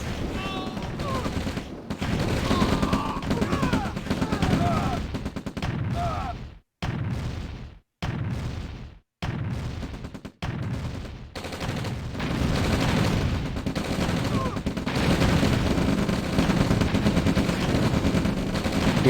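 Sustained rapid gunfire from base defences such as turrets and pillboxes in the strategy game Red Alert (OpenRA), dense bursts with a few brief pauses, loud and continuous, with a voice talking over the shooting.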